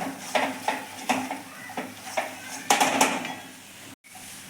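Gram flour with spices and onion roasts over a low flame in a pan, with a spoon scraping and stirring in steady repeated strokes over a soft continuous sizzle.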